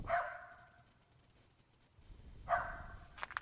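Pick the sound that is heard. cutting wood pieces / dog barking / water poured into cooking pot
dog barking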